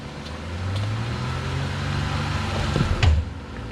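Steady, loud engine drone and tire churn from a Jeep Gladiator on 35-inch tires spinning in mud off-road, with a low rumble throughout and a brief heavier surge near the end, no voices.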